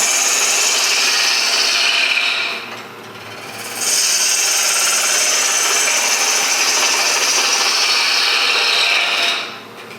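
A wood lathe spins a wooden sphere while a gouge cuts across it, giving a loud, steady hissing scrape that briefly drops away for about a second before resuming, then fades again near the end.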